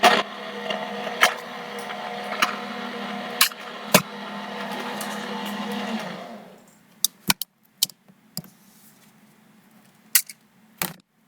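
A Stampin' Up paper crafting die-cutting machine runs with a steady mechanical whir for about six seconds and then stops, followed by scattered sharp clicks and taps close by.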